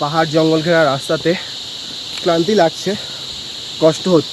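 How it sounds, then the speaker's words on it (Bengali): Crickets chirp steadily along a steep mountain forest trail in Uttarakhand, a constant high buzzing drone under a man's intermittent speech. "ঝিঝি পোকার ডাক"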